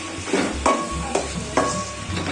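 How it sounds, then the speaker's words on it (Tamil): Three medium tomatoes sautéing in a pan for fish curry, a close steady sizzle with three or four spatula scrapes in quick succession; no talking. "இதில் ஒரு 3 தக்காளி பழம் மீடியம் சைஸில் போட்டுருக்கேன். போட்டு நல்லா வதக்கி வச்சுக்கலாம்"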